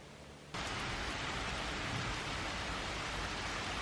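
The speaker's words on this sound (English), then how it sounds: "Gosh, it's really pouring with rain." Heavy rain pours down outside, a dense, steady hiss that starts abruptly after a brief quieter moment and then holds loud and even throughout, with no talking.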